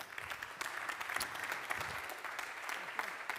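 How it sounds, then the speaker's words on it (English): A conference audience gives a keynote speaker a steady round of applause, dense and continuous for several seconds, fairly faint and distant in a hall. "So let's give Sinja a very warm round of applause."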